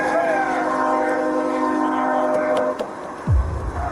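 A train on the Linden Avenue Bridge after colliding with a car, a sustained horn-like tonal blare held for several seconds before cutting off, followed by a low rumble.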